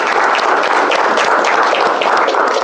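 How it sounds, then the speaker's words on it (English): Loud, dense applause from a meeting audience for a speaker named Hariom, a steady close-up patter of many hands clapping together without any speech. "Can we have a round of applause for Hariom?"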